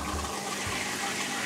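Hotel shower running at full pressure, a loud steady hiss of gushing water with a few low knocks near the start, continuous throughout.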